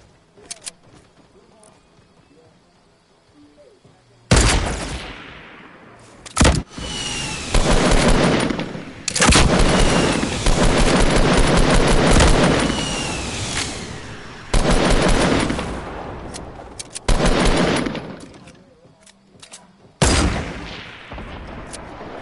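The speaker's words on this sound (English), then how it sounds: "They're getting shot at by another team." Gunfire in a PS4 shooter game with teams fighting: loud bursts of automatic fire and single shots in clusters separated by brief quieter gaps, with a voice talking faintly in between.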